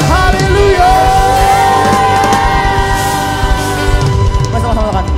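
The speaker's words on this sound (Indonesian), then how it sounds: "Sorakan haleluya." A congregation at a school family Christmas worship service in Medan shouts hallelujah together, a loud, sustained mass of yelling and whooping voices that fills the room continuously for several seconds.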